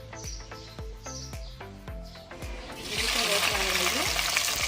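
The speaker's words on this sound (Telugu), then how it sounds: "ఆయిల్ వేడెక్కిన తర్వాత పచ్చిమిరపకాయలు, ఉల్లిపాయలు వేసి ఫ్రై చేసుకోవాలండి." Green chillies and onions hitting hot oil in a cooker pan: a run of knocks and clatter, then from midway a loud, steady broadband sizzle that holds to the end.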